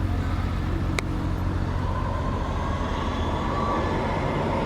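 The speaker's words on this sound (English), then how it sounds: "We just got to find a tram first." A tram rolls along a German city street with a steady, close, continuous rumble and hiss. One sharp click stands out early on.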